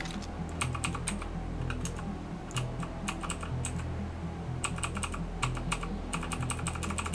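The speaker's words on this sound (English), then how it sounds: "I know, it's so loud, this keyboard, ain't it?" Loud computer keyboard keys pressed in bursts of quick clicks over a steady background hum, close to the microphone, with short gaps between clusters and no speech.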